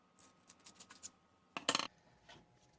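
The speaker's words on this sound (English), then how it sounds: "See if I can just get the corner tore off. So I've got my scissors right here," Scissors snipping the corner off a Russian MVD MRE ration pouch: a few quick, light snips, then a louder crisp cut close by, in a quiet room.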